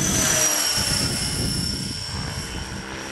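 A T-Rex 600 ESP radio-controlled model helicopter in flight, giving a steady, loud whirring rotor and motor drone with a thin high whine held throughout, alone without talk.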